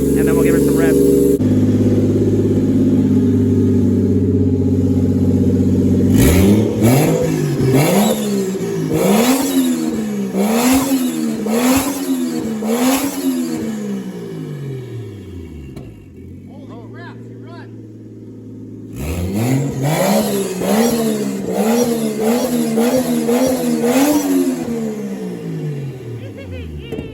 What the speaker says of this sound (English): and then we'll give her some revs